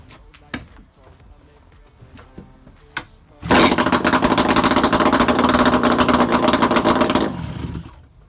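An IZh Jupiter 5 motorcycle engine, run without oil and with an oxidized carburetor, catches after a few knocks and kicks, then runs loud and steady for about four seconds before cutting out.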